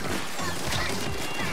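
Firework bombs burst in Splatoon 3 during a festival match, a dense, loud run of crackling, popping explosions layered over bright game effects with no break.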